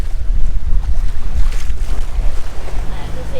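Waves slapping against a sailboat hull amid heavy, roaring wind noise on the microphone, a loud, continuous rumbling wash with surging pulses.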